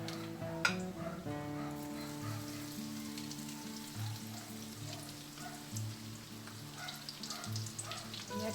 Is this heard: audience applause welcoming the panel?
no